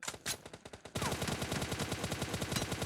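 Rapid automatic gunfire in the mobile game PUBG Mobile: sparse shots, then a dense, loud, rhythmic burst of rifle fire that continues to the end.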